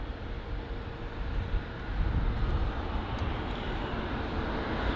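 A departing Icelandair Boeing 757 jet in Independence livery at London Heathrow, heard as a steady broadband roar that swells slightly partway through and stays loud and sustained, with wind buffeting the microphone.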